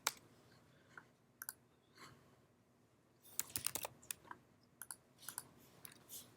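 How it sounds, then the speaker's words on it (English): Irregular bursts of typing on a computer keyboard while a credit card number is entered, with clustered clicks separated by short pauses, close and fairly quiet. "I am tired of typing in a credit card number."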